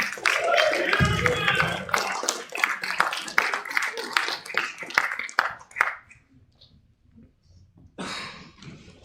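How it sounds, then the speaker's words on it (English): Audience applause at a live comedy show in a theater, a loud burst of clapping and cheering that thins out and stops, followed by quiet, then a fresh brief outburst. "Give Barre Pinske a huge round of applause for putting this all together"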